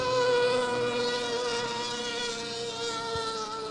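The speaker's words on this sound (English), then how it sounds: "Now listen to this boat as he goes through the corner." Racing boat engine at an MBRA race in Stigler, Oklahoma, whining steadily through a corner with a high, buzzing harmonic drone that holds loud and even throughout, with no talk over it.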